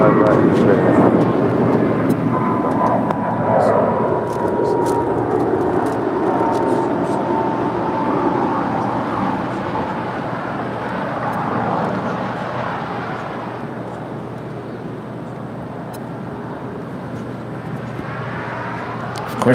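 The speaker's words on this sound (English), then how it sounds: "that is Virgin Atlantic Flight 7. Coming in from London, it's 787-9 Dreamliner" A Virgin Atlantic Boeing 787-9 Dreamliner arriving at LAX from London gives a loud, sustained engine roar that slowly fades as it passes, with voices talking over it.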